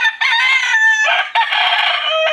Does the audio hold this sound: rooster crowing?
yes